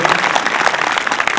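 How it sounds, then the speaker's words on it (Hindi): Audience applause at a Yog Diwas 2019 gathering, a dense steady burst of many hands clapping together throughout, loud and continuous with no pauses. "उनके लिए जोरदार तालियां मैं कहूँगा बजाएं सभी लोग"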